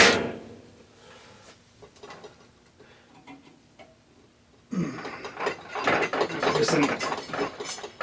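A ratchet wrench works a stem bolt loose on a vintage Pinarello bicycle, ticking faintly at first, then clicking loud and rapid in the second half as the handle swings back and forth close up.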